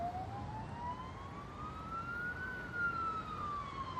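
A police siren sound effect in a beat intro rises and falls slowly, moderately distant, over a steady low background hum of traffic.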